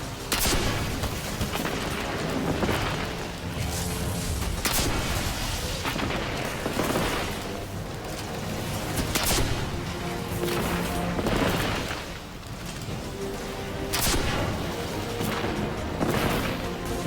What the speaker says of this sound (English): Who's blowing stuff up without me? I'm gonna get eyes on that explosion.